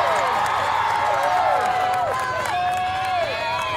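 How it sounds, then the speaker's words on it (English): Crowd applause at a 2023 SWAC softball tournament game between Grambling State and Prairie View A&M, greeting a Prairie View A&M player at an awards moment, a steady wash of clapping and cheering with an announcer's voice running over it. "how about a round of applause for Aaron Talley?"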